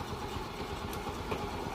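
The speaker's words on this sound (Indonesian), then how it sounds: "panasin dulu. Maklum, ini motor tua." An old motorcycle engine idles as it warms up, a close, steady low rumble that runs the whole time without a break.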